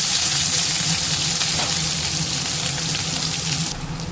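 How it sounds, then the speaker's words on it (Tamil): Chopped onions hit hot oil where mustard seeds have already popped, giving a loud, steady sizzle and crackle that holds for the whole stretch, close up and without any talking. "கட் பண்ணி வச்சுருக்க வெங்காயத்தை சேர்த்துக்கலாம்."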